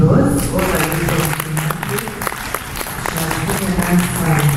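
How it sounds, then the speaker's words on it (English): Audience applause at a conference session: a sustained wash of clapping from a crowd, steady and fairly loud, with some voices speaking over it. "Let's have a round of applause."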